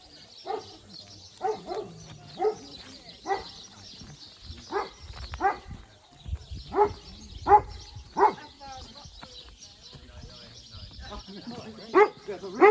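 Farm dog barking in repeated sharp single barks and short clusters, moderately close and irregularly spaced over several seconds, with faint birdsong and a low outdoor background.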